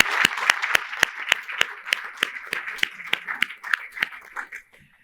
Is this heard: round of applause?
yes